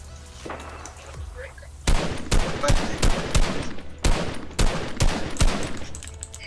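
Rapid gunfire bursts from a battle royale video game, loud sharp shots in quick clusters and single cracks with brief gaps, while players talk over the action.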